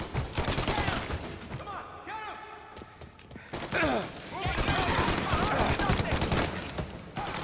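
Gunfire in Mafia Definitive Edition: repeated shots and short bursts, loud and close, with thuds and game action throughout and a voice speaking at times.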